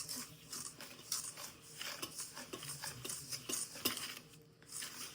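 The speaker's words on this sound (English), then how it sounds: "I am just going to stir this." Icing for mille feuille being stirred in a bowl, with milk just added, gives a steady run of close scraping and light clinking of a utensil against the bowl, uneven in rhythm and continuing throughout.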